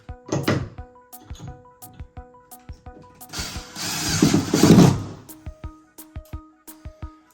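Screw being driven by hand to mount coat hooks on a wall, a series of close knocks and clicks with a longer grinding burst in the middle, then more scattered taps.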